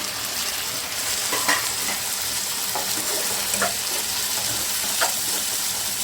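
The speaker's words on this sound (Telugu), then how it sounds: "కొంచెం ఫ్రై అయింది కదా ఇప్పుడు ఇందులోకి కట్ చేసుకున్న టమాటా కూడా వేసేస్తానండి" Chopped tomatoes frying with ginger garlic paste in a pan, giving a continuous dense sizzle with a few stirring scrapes, close and steady throughout.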